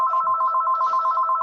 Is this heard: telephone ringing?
yes